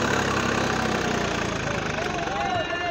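A Swaraj 855 tractor engine held near 1600 RPM and labouring under load from people standing on it, a loud, steady, close diesel drone with a slight falling tone, with a voice talking over it.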